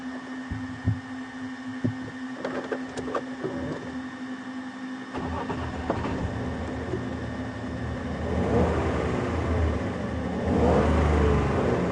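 A safari vehicle's engine starts up partway through and then revs, the rumble rising in two stages and growing louder after a quiet stretch of small clicks and knocks.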